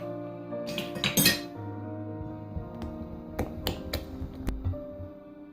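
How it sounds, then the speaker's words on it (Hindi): Eggs are beaten in a bowl with a utensil, making a short run of quick clinks and taps up close, then a few scattered strikes, over quiet background music. "ये अब इसमें हम 5वां अंडा डालेंगे। इसको इस तरह से मिक्स कर लेंगे।"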